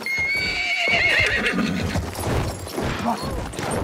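A horse whinnies loudly over a busy, cluttered soundscape of hoofbeats and action noise in the video game Battlefield 1, the neigh rising and falling before fading into rumbling chaos.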